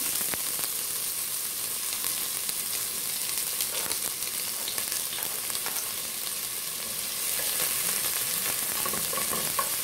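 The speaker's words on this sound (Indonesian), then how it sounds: "Lalu masukkan bawang merah." Shallots frying in oil in a pan, a loud continuous sizzle with occasional stirring scrapes, steady and close throughout with no voice over it.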